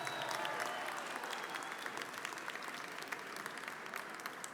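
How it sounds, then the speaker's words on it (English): Audience applause at a Dominican heritage ceremony in Manhattan, a dense, steady patter of many hands clapping at a moderate distance that holds for several seconds and tapers slightly at the end. "Let's give her a round of applause."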